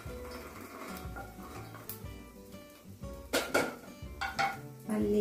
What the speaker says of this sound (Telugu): మళ్ళీ ఒకసారి మూత పెడుతున్నా.